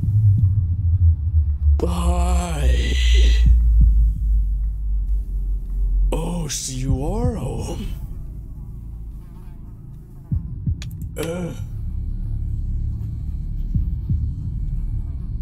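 A low, thudding heartbeat pulses steadily under a droning hum in a horror video game, while a person speaks briefly in short bursts over it.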